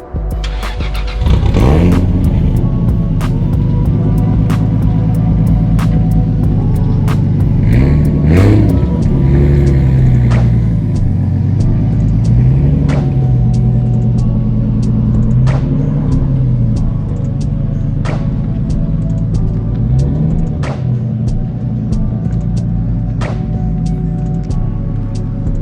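A modified MK4 Toyota Supra's 2JZ engine cranks and fires, then settles into a loud, rumbling idle broken by several sharp revs as the race car pulls away. The sound is close and dominant throughout.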